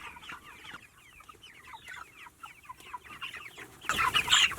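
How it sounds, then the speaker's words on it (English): Backyard Cornish cross meat chickens cluck close by in quick, busy bursts, and a louder squawk rises near the end. "you could raise some Cornish cross chickens in your backyard"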